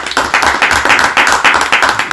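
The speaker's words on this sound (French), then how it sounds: "Applaudissons pour Josué." A church audience claps in a loud, close, rhythmic pattern of distinct, evenly spaced hand claps at about four per second.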